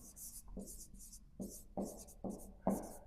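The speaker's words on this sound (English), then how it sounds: "And I will write it down." A quote being written down by hand: a series of soft, scratchy pen strokes in short irregular bursts, quiet and close, with no talking over them.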